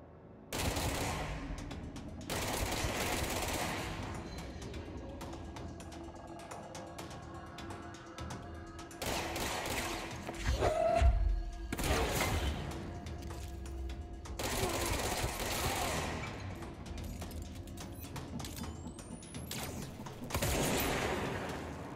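Bursts of rapid video game gunfire from the game Control crackle in several long volleys separated by short pauses, loud and harsh against a low mechanical hum.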